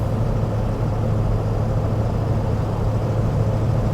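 A 2002 Ford Excursion Limited with the 7.3L Powerstroke diesel cruising at about 60 mph and 1600 RPM, giving a steady low engine drone and road rumble that holds level throughout, with no talking.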